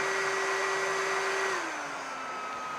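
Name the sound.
electric heat gun running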